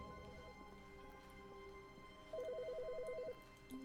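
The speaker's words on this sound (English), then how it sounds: "It's weird the phone was ringing." Phone ringing in The Stanley Parable video game, a faint electronic trilling ring repeating over a quiet steady hum and soft background tones.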